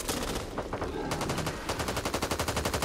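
Sustained automatic gunfire rakes zombies in the Back 4 Blood game, loud and close, with dense overlapping shots that settle into a fast, even rhythmic stream of rounds.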